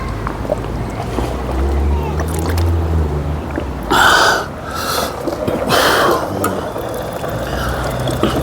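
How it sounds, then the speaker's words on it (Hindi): Cold water gushes from a push-button tap into a bottle in short loud bursts of splashing and filling, with a person speaking between the bursts. "इस तरह से पानी आता है बटन दबा के। तो मैं अपनी बोतल भर लेता हूँ"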